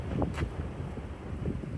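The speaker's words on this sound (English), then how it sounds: "Whew, that was quite a gust there" Wind gusts buffet an outdoor microphone beside a Craftsman push mower, a broad low rumble with brief thumping bursts that swell and ease across the moment, loud and close.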